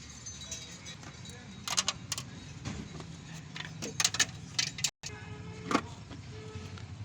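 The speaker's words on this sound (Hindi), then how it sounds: "अभी हम गाड़ी का जनाब एयर फिल्टर वगैरह खोल के चेक करते हैं" Air filter housing being opened on a car during a DIY tune-up, scattered plastic clicks, clip snaps and rattles at close range, with a brief gap partway through.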